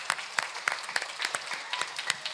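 An audience at an outdoor Islamic religious gathering in Surabaya claps in loose, uneven bursts, with distinct sharp hand claps standing out over a thinner bed of scattered applause.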